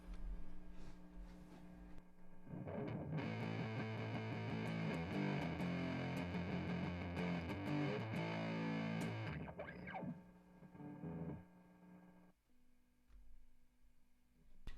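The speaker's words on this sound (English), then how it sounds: "That's about the most distortion you can get, is that fuzz sound." Electric guitar played through a fuzz distortion pedal, a thick, heavily saturated sustained tone with strummed chords ringing for several seconds before fading, followed by quieter low residual buzz.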